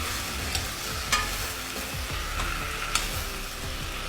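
Chicken colombo stirred in a pot, a steady close scrape and bubbling sizzle with a few sharper clinks of the spoon against the pot.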